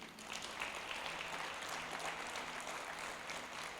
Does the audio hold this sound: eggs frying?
no